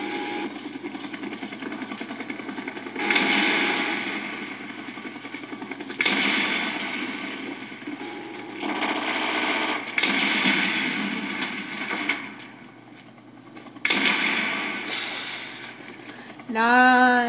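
The Grim Reaper weapon fires in Call of Duty Black Ops, with several loud, roaring blasts a few seconds apart in game combat, each lasting about a second or two.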